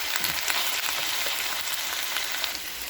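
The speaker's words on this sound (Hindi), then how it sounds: "बस थोड़ा सा घी में भूनना है, ताकि इसकी सॉफ्टनेस बरकरार हो जाए" Onions frying lightly in ghee for a quick okra sabzi give a dense, steady, close sizzle that continues without a break.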